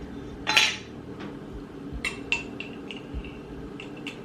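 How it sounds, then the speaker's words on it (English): A spoon clinks against a glass or cup while coffee syrup ingredients are mixed, one sharp ring followed by several lighter taps and scrapes, close and with no voices. "I'm just gonna mix this all together real quick"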